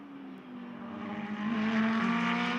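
An Audi GT race car at Indianapolis, engine note climbing in pitch as it accelerates and sweeps past, growing louder toward the end with a bright high-revving whine.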